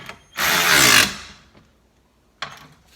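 A cheap cordless ratchet from Amazon whirs loudly for about two-thirds of a second as a single close-up run, then a second short burst starts near the end.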